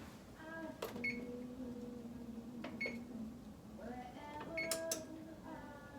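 An oven's control panel beeping while preheat is being set: several short electronic beeps in a quiet kitchen, with a low hum underneath and faint background noise.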